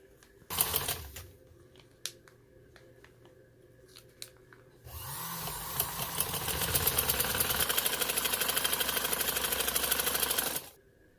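A sewing machine stitches a decorative trouser design: some clicks and handling first, then a loud, steady rapid needle clatter running for several seconds before stopping abruptly.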